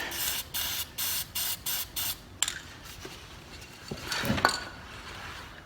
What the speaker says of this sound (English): I can just take a little spray paint